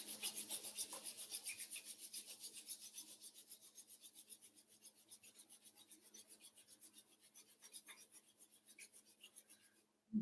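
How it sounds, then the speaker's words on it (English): Palms rubbing briskly together during a yoga session, a steady rhythmic swishing rasp repeated many times in quick strokes, close and soft, with no talking. "Rub the hands together."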